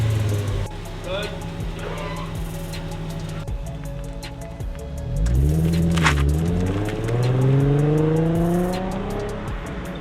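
A Nissan 350Z Nismo under way, its engine note rising and falling through gear changes with wind and road roar around it, loud and steady.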